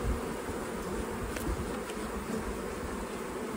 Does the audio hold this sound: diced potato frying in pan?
no